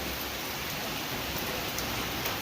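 Heavy rain pours steadily over a jungle during a storm, a dense, continuous roar of drops at close range with no pauses and no voices.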